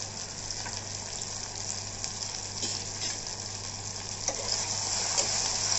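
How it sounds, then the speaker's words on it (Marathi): Onion and coconut masala with green chilli paste, cumin and garlic roasts in hot oil in a pan for a red pumpkin dish, a continuous soft frying sizzle with faint stirring that grows slightly louder toward the end. "हे मसाले सगळे तेलामध्ये भाजून घेतले"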